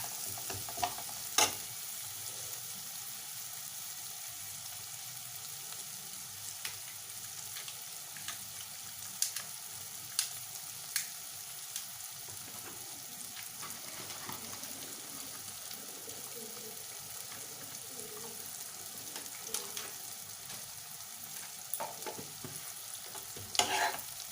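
A spice masala with Kashmiri red chilli fries and is stirred in a pan: a soft, continuous low sizzle punctuated by scattered sharp scraping clicks of a spoon, with faint background noise.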